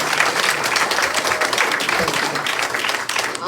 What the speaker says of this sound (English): I also would just like to have one more round of applause for Becky